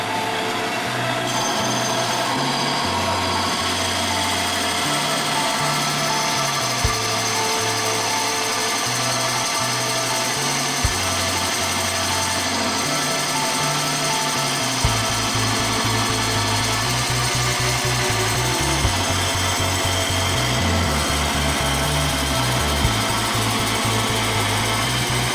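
A large drill bit boring into a wooden bowl on a lathe, a sustained loud mechanical whir with rhythmic pulsing changes in pitch as the bit bites and eases, continuous for the whole stretch with no talk.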